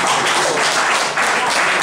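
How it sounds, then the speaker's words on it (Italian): Dense, steady applause from an audience at a political assembly in Ancona fills the room loudly and continuously, with faint voices blended underneath. "Io gli faccio un altro applauso, Francesco,"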